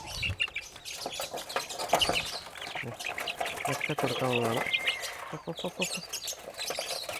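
Pure native country (naadan) chicks at a chicken sale in Nenmara, Palakkad, chirp in quick repeated peeps close by, mostly beneath a person talking throughout, with a clearer run of calls partway through.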